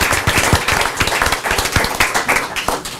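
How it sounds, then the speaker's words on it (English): Attendees at a city council meeting in Brawley clap for a speaker, a smaller, uneven group whose individual hand claps stand out as sharp, separate slaps within a lively round of applause. "Let's give him a big round of applause"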